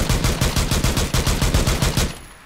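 Rapid pistol fire in Rainbow Six Siege, a fast string of about a dozen evenly spaced sharp shots ringing loud and close, ending abruptly with a short fading tail.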